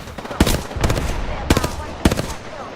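Gunfire in a video game, with several loud bursts of rapid shots in quick clusters and short gaps between them, close and sharp.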